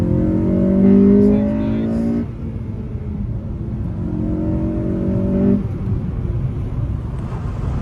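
A Honda car's engine revs while being driven, the note climbing in two long pulls with a drop and pause between them, close and fairly loud over road noise.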